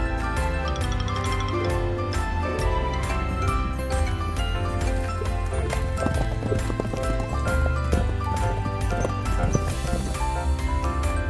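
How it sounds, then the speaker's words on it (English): Steady rhythmic horse hoof clip-clops with a whinny, set against bright jingling, tinkling music; the sounds seem staged rather than recorded live. "H for horse."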